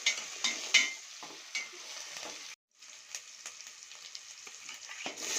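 Tomatoes tipped into a frying pan of curry leaves and spices for an okra tamarind curry give a steady close sizzle, with a few sharp spatula scrapes and a brief pause midway.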